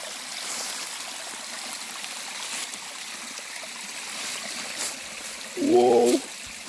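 A small waterfall stream on a hike rushes and trickles in a steady, close wash of water, with a brief tonal squeak or voice near the end.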